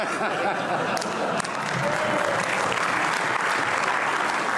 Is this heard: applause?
yes